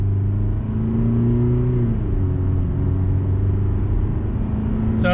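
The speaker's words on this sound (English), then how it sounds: "But rolling on throttle here, let's see how we do." A 2021 Chevrolet Colorado Duramax diesel pickup with a 6-speed automatic accelerates on throttle, its engine a steady, loud, near rumble with rising tones and an audible shift partway through, and no talking.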